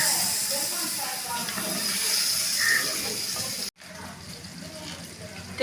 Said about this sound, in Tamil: தேங்காய் சேர்த்து கொதிச்சிச்சுங்க